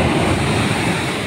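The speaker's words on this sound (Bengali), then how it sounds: "এই সিঁড়িটায় বসে বসে সমুদ্রের ঢেউ দেখবো" Sea waves break and wash onto the shore at Digha beach, a continuous loud roar of surf with wind rumble, no voices.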